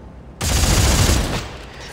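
A minigun in the Dead Space 3 video game roars in one continuous, loud rapid-fire burst lasting about a second, then trails off into a fading mechanical whine.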